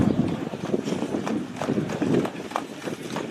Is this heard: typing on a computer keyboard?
no